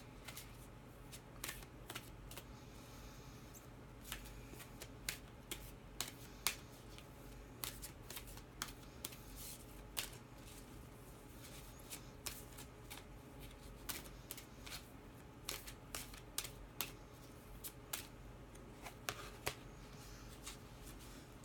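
An oracle deck is shuffled and cards are drawn, crisp close riffling and sharp card flicks in irregular bursts, faint and alone.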